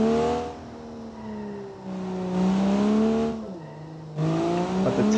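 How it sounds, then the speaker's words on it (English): Engine of a track car on semi-slick tires driving on an icy road in the BeamNG driving game, a close droning note rising and falling with throttle changes across several short pulls, alone without talk. "the car will start to get a little bit slippery because we are driving basically on ice"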